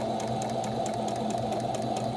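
A sewing machine runs steadily through fabric, its motor humming loud and close with a rapid, even needle clatter throughout.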